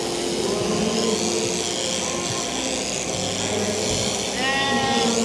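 Sheep bleat at a shearing competition in Ireland, with repeated clear bleats over a loud, steady hum of shearing machinery and crowd noise.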